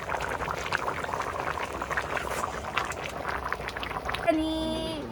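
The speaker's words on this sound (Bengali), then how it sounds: "এখন চিকেনটা হচ্ছে ফুটছে" Chicken boiling in water in a wok in a village kitchen, a steady bubbling simmer heard close under continuous talk, with a brief tonal sound near the end.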